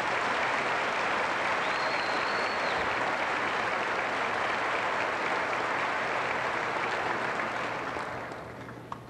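Crowd at a 1997 high school graduation applauds seniors receiving awards, a thick steady roar of clapping that holds for several seconds before tapering off at the end.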